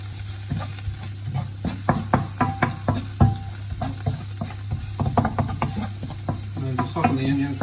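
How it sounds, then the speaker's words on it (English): Chopped onion softening with cinnamon and pepper in a hot pan for a Jamie Oliver-style moussaka, giving a steady close sizzle broken by repeated scrapes and clacks of a spoon stirring, with a constant hum underneath. "Soften the onion for about 5 minutes"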